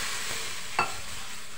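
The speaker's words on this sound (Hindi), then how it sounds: "अब इसमें हम थोड़ा से पानी का छींटा मारेंगे" Gram flour roasting in a pan gives a constant, loud frying hiss, with a brief sharper sizzle burst as a splash of water is sprinkled in, then the steady crackle continues.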